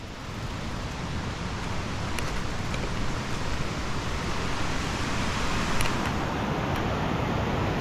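A river runs beside a quiet mountain campsite. Its steady broadband rush of flowing water holds close and even for the whole stretch, with no voices over it.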